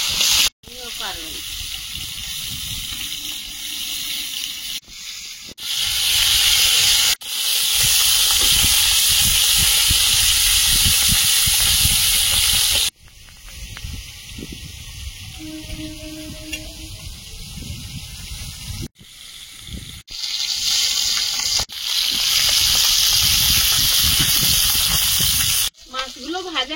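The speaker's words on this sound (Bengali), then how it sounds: "তেল দিয়ে মাছগুলো ভেজে নেব" Koi fish fry in hot oil in a frying pan, sending out loud, close hissing sizzles in long bursts that break off several times, with a voice heard in the quieter gaps.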